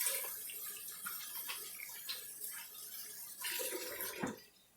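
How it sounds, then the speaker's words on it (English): Tap water running into a sink while hands are washed under it, a soft continuous splash with shifting surges and a brief louder burst toward the end. "Give me a minute to wash my hands again."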